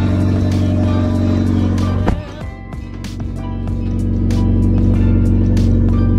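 A Mitsubishi Evo X engine running with its exhaust disconnected, a loud, raw, steady drone that dips briefly around the two-second mark and then swells back to full volume, with sharp rattling clicks on top.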